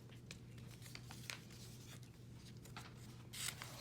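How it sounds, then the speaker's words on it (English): Quiet rustling and creasing of paper being folded into a paper airplane, a series of soft scrapes and crinkles close by, with no talking. "And then you have to fold it down like this so you can make like the wings for the paper airplane"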